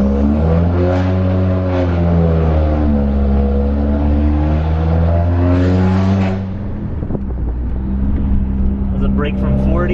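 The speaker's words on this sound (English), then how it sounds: "You give it a little bit of gas." A 2014–2018 Subaru Forester engine revs up steadily as it gains speed ahead of a brake test, a loud continuous rising drone with strong low harmonics, easing slightly near the end.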